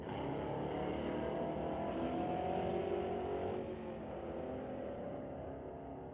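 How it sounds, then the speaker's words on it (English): A Corvette and a Mustang launch side by side in a Friday night street-legal drag race at Mission Raceway Park, both spinning their tires; a loud, continuous roar of engines and tire spin fills the clip. "Bit of wheel spin for the Corvette, and Hopper pursued the Mustang with wheel spin."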